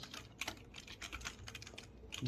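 Quiet, rapid keystrokes on a computer keyboard while entering a folder command in the Windows command prompt, a continuous patter of soft clicks close by with no voice.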